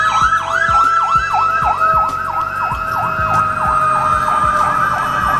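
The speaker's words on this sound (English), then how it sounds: "this is the first ambulance I've ever heard since I was in Mexico." An ambulance siren on a street in Mexico wails steadily in a fast, repeating up-and-down sweep, loud and close, over low traffic rumble with no talk.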